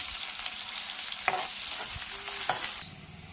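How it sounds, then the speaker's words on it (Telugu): Onions fry in a pan with a bright continuous sizzle while a spatula stirs them, adding a few scraping knocks before the sizzle drops slightly at the end. "ఇప్పుడు మనం దీంట్లో ఆనియన్స్ వేసేద్దాం చూసారా ఆనియన్స్ వేగంగానే కానీ ఎలా వేగిపోతుందో"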